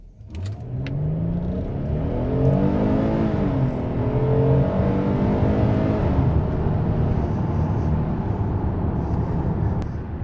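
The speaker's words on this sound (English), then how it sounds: "So now let's try sport mode acceleration." A 2025 Hyundai Palisade accelerates hard in sport mode, its engine note climbing steadily through rising revs with a brief shift dip, loud and close from inside the cabin for about ten seconds.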